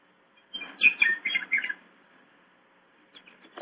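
Birdsong used as a radio drama sound effect: a brief burst of bright chirps and tweets, then quiet, with a few faint calls returning near the end.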